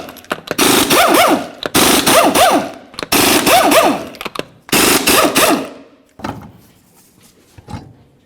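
Impact wrench taking 21mm lug nuts off a 2004-2005 Nissan Titan wheel: four loud, close bursts of hammering rattle about a second each with brief gaps, followed by a few softer clunks as nuts come free, no talking.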